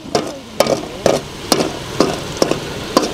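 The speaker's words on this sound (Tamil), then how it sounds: "கிளீனா வெங்காயத்தை வதக்குறேன் நல்லா கொதிக்குது" Onions sauté in a pan close up, with a utensil scraping and knocking against it in about seven steady, evenly spaced strokes.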